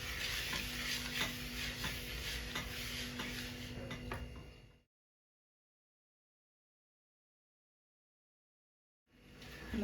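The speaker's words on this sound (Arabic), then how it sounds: "نقلب كويس لحد ما يتجانس كله مع بعض" A spoon works a semolina, flour and baking powder batter for basbousa, making steady scraping and ticking stirring sounds close up, which cut out to total silence midway and resume briefly at the end.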